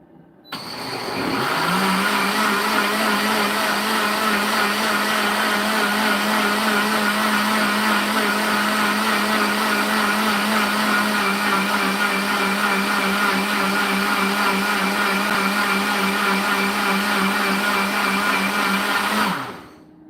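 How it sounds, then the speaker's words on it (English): A blender motor whirs loudly and steadily for nearly twenty seconds, starting abruptly and cutting off at the end, with no talk over it. "let's get the magic blender out"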